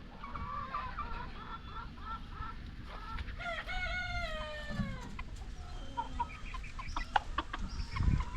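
Chickens cluck and a rooster crows inside a chicken tractor set on fresh grass, a busy, fairly close flock with overlapping calls and bursts of warbling and squawks throughout.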